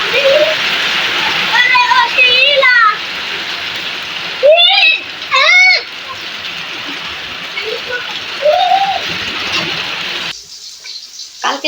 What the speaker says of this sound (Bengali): কালকে রাত্রি থেকে বৃষ্টি হচ্ছে।